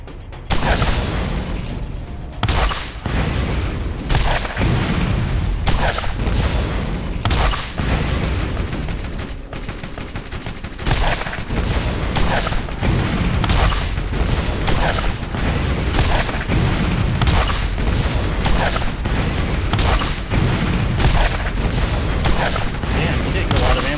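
Rocket launcher blasts and explosions in Borderlands during a firefight, dense repeated booms and bursts of gunfire coming every second or so, loud and sustained across the whole stretch.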